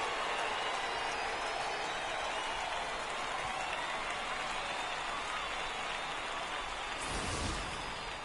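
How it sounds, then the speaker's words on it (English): A home crowd at a minor league baseball game between the San Antonio Missions and Midland Rockhounds keeps up a steady, dense roar of cheering and applause that swells slightly near the end. "the home crowd has really come to life here in the bottom of the 8th"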